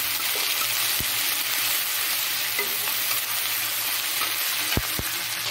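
Fresh green chillies sizzle and fry steadily in hot oil in a pan, with dry chillies, cumin, and ground ginger and garlic, a continuous close crackling hiss with a few sharp utensil knocks.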